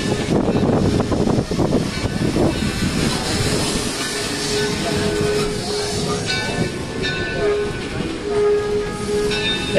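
Weiser Railroad train at Greenfield Village pulling away, a steady loud rumble of rolling cars and wheels with hissing, clanking and a sustained tonal whine building as it departs, no speech over it.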